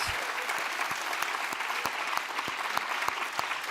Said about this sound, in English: So really big round of applause for Patricia, please.